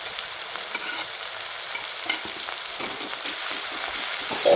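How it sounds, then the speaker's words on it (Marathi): Coriander stirred into a dal tempering in a pan, giving a continuous even sizzle with soft scraping of the spoon, close and unbroken, with no talking. "छान मिक्स करून घेऊया आता यामध्ये मी लगेच कोथिंबीर घालते"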